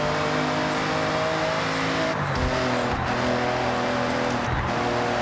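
A race car engine drives hard in Forza Horizon 6, a loud, steady, droning roar with layered engine tones that shift slightly as the car changes speed, close and continuous with no voices.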